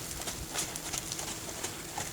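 Horse hooves clip-clop at a gate in an irregular shuffle of soft, fairly close steps over steady background noise.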